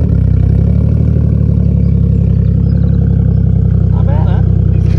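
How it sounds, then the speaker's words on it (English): Stock turbocharged Toyota drift car engine, with cut and welded knuckles, running at a steady loud idle with a deep low rumble throughout, and light voices faintly beneath it. "I'll get the car started."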